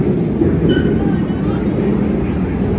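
A loud, continuous rumble of a roller coaster train rolling along its track at Six Flags Over Texas, with faint squeals and clatter mixed into the steady roar.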